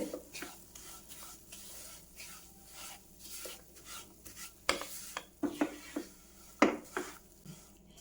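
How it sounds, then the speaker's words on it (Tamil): Wheat rava is stirred and roasted dry in a pan over a low flame for rava laddu, with a steady soft scraping and rustling and a few sharper clinks of the spoon against the pan. "ஒரு 2 நிமிஷம் வறுத்துக்கோங்க சிம்லேயே வச்சு"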